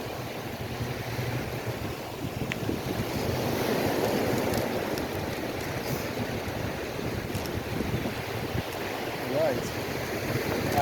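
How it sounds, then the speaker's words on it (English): Ocean waves roll onto a seaweed-strewn beach at Fort Myers Beach, Florida, as a steady broad wash of surf with wind buffeting the microphone, continuous and moderately loud throughout. "The seaweed is preventing some of these waves from reaching their full potential. It's causing wave breaks."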